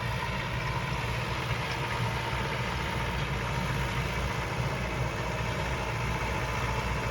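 A YuMZ tractor engine runs steadily while spraying a field, a constant low rumbling drone with no rhythm changes, heard alone without voices.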